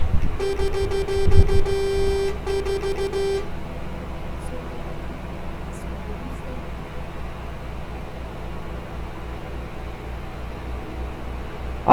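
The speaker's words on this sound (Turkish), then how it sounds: "Bu arada şöyle bir etkili bir kornamız var." A loud truck horn from a modded Temsa Safir vehicle in Euro Truck Simulator 2, blaring as one sustained tonal honk for about three seconds over a steady engine drone that continues afterward.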